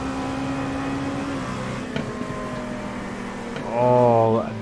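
GT3 race car engine in a racing game at Mosport, a steady droning whine that swells into a louder, rising rev toward the end, with a voice talking over it.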